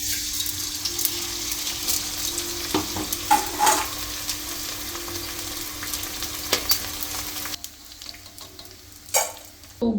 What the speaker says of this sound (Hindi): गोंद के फुल्ले तो हमने फ्राई कर लिए, यानी गोंद को तो फ्राई कर लिया है